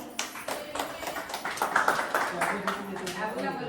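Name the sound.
audience applause, clapping for a child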